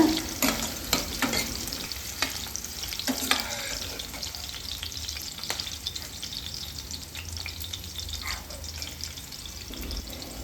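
Mustard and fenugreek seeds fry in oil, sizzling and crackling steadily, with a few sharp pops and stirring clatters near the start.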